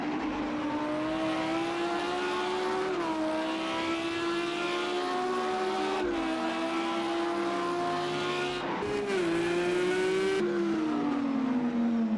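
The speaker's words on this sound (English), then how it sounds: "Let's do a lap with Mark." GT3 race car lapping in the racing game Project Cars 2, its engine droning loudly and continuously, climbing in pitch through the gears and dropping briefly at each shift, with no voices.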